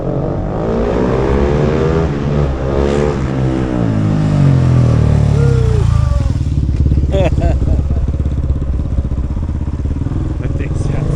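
KOVE 450 Rally motorcycle engine revving loudly and close, with a rising and falling engine note and steady mechanical chatter; voices talk over the engine throughout.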